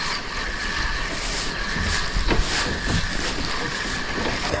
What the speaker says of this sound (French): il y a vraiment beaucoup de bateaux qui passent ici